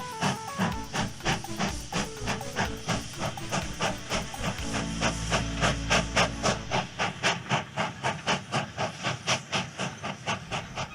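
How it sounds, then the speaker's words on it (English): Two steam locomotives pulling a heavy goods train, heard as rapid rhythmic chuffing with hissing steam and a low rumbling rail noise, steady and fairly close throughout. "As they were both chuffing along the rails, they were happy to be friends again."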